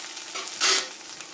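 Chopped onion softening in a hot pan, giving a soft, steady sizzle that swells into a brief brighter burst of frying as it is stirred, then settles back.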